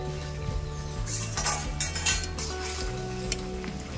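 A cooking pot is uncovered and fish is added, bringing close metallic clinks and clatter of lid and utensils over a low sizzle of frying, with no talking.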